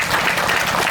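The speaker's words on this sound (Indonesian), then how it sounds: "Tepuk tangan untuk semua stasi." A brief, loud burst of clapping from a church gathering celebrates the stations of a Catholic parish at a groundbreaking ceremony, steady throughout the short moment.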